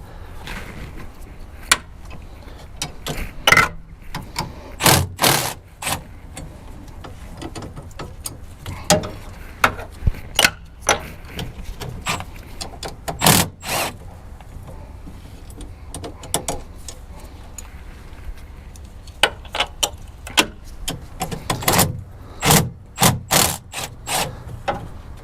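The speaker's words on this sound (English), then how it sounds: "So I'm going to remove these bolts first." Steering linkage bolts coming off a Bobcat skid steer, with sharp ratchet clicks, metallic taps and clunks of tools on the machine in irregular bursts, close and fairly loud, without talk.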